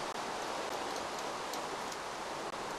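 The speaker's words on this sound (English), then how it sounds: "Maybe just because it's raining and I like the sound of the rain." Steady rainfall in a video game island setting, a continuous even hiss of drops on surfaces heard on its own with no talking.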